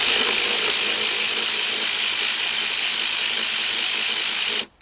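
A power tool whirs steadily and loudly as it removes a bolt from a Jaguar X-Type radiator, then cuts off abruptly at the end.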